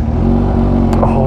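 A McLaren supercar's engine at a hypercar event, a loud, steady, low-pitched drone held close by for a brief moment, with excited voices over it.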